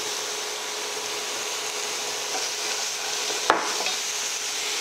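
Garlic, onion and tomato sizzle in a hot oiled pan for stir-fried pho noodles, a steady hissing fry broken once by a sharp utensil tap.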